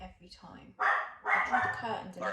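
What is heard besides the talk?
dog barking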